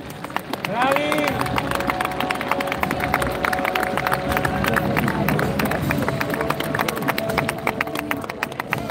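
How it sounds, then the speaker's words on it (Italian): A crowd at the Natale di Roma Roman reenactment in Rome claps steadily and densely for several seconds, with voices of people talking running through the applause. "Bravi, un applauso."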